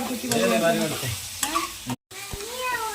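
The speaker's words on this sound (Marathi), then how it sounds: "कोळंबीचं फ्राय केलं" Prawns frying in hot oil for kolambi masala, a loud continuous sizzle with stirring scrapes and clinks of a spoon against the pan, briefly cut off by a short silent gap.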